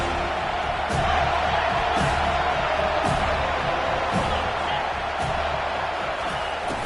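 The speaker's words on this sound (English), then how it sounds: "Big 3rd down as the crowd gets behind this defense." A stadium crowd in College Football 25 roars steadily through a big third-down defensive stand in an FSU versus Miami game, forming a dense, continuous wash of cheering with faint thuds underneath.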